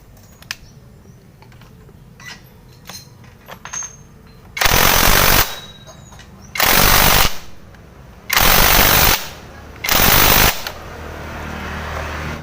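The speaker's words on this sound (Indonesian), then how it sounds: "Tinggal kita kencengin murnya pakai impact." A pneumatic impact wrench tightens a nut on a Yamaha Vega or Jupiter Z motorcycle, firing four loud, rattling bursts of about a second each, with short quiet gaps between them and faint workshop clatter before.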